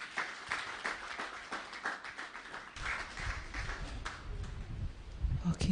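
An audience claps at a women's church seminar, scattered hand claps building into a light round of applause, with voices and some low rumbling noise underneath.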